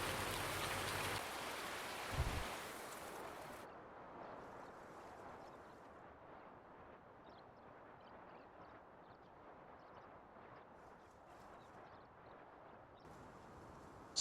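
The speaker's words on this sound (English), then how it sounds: "let's just go and wait for this rain to clear" Steady rain hisses and patters across a console farming game landscape near a millet field, a dense even wash that runs the whole time after a louder, brighter opening stretch, with no talking over it.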